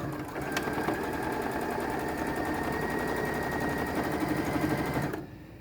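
A sewing machine runs a 1/4 inch seam joining a strip to a kitten quilt panel, its needle clattering in a fast, even rhythm for about five seconds before stopping abruptly.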